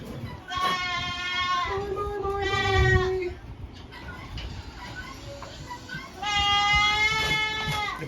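Goats huddled in a shelter during an April blizzard bleat in long, quavering calls, two loud bursts separated by a quieter gap, with a person speaking briefly between them.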